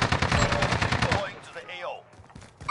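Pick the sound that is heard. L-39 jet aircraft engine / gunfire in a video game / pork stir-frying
gunfire in a video game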